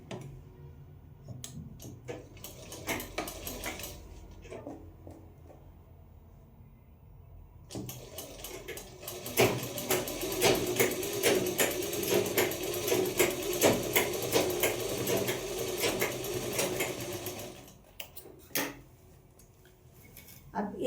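A domestic sewing machine stitches pajama fabric in bursts of rapid mechanical rattling, loud and close, broken by pauses and fabric handling, with someone speaking between runs.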